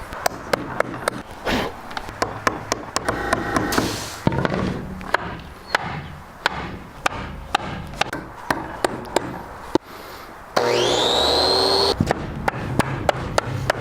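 A sharp chisel cutting a groove in wood for a tenon while building a headboard: a rapid series of close, sharp mallet taps and thuds, with a brief whirring tool burst near the end.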